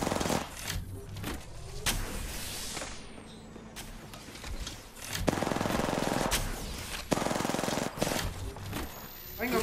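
Rapid automatic gunfire from a video game firefight, bursts of loud shots recurring throughout with brief lulls between, under faint talk.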